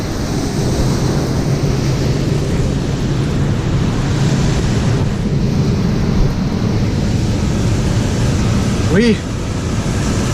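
A grain dryer runs at corn harvest with a steady, loud roar and a low hum underneath that holds for the whole stretch. Someone talks nearby over the noise.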